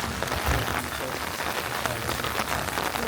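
Steady rain falling in Wales, a dense continuous patter of drops hitting surfaces nearby, even and unbroken for the whole stretch.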